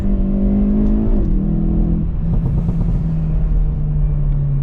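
A 2022 Hyundai i30 N turbocharged hatchback engine revs hard and climbs in pitch as it accelerates, front tyres scrabbling for grip, loud and close, with a steady roar and a gear change partway through.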